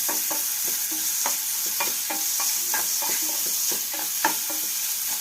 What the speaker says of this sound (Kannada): ಅದಕ್ಕೆ ಶುಂಠಿನ ಚೆನ್ನಾಗಿ ಫ್ರೈ ಮಾಡಬೇಕು.